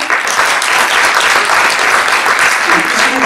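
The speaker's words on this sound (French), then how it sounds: "Je crois qu'on peut les applaudir, merci beaucoup." Loud, sustained applause for the guests fills the room at a geek event, with steady dense clapping and a voice faintly audible beneath it.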